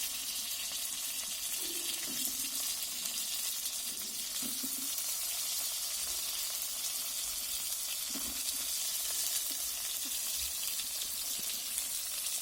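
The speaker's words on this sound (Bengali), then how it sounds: "তো এরপর পটলগুলোকে লাল করে ভেজে নেবো" Pointed gourd (potol) frying in oil in a home kitchen, with a soft, steady sizzle and occasional faint clinks and splashy bursts, fairly quiet and distant with no speech.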